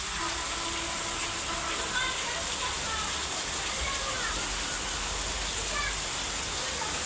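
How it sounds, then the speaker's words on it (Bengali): Heavy rain pours steadily outdoors in Bangladesh on a hot afternoon, a dense, continuous hiss of falling water with no break, while faint voices sit low beneath the downpour. "বৃষ্টি আর বৃষ্টি, বৃষ্টি পড়তেছে জোরে জোরে।"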